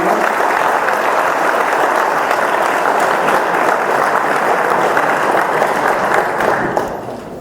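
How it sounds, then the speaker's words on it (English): A political debate audience breaks into sustained, dense applause, loud and even for several seconds before fading toward the end. "Give them a round of applause for that lightning round."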